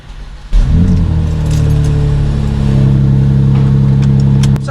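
Keys jangle briefly, then a car engine cranks and catches with a sharp burst, settling into a loud, steady close idle with a light rattle of keys near the end.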